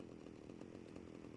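A chainsaw in the video game GTA Vice City, a brief, faint, continuous buzzing drone with a rough pulsing texture, with no talking.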